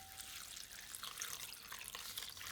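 Water is poured for homemade anchovy ramen broth, a faint, steady splashing trickle that runs unbroken from start to end and stands alone.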